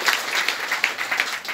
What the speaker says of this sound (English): We clap for the two organizations there.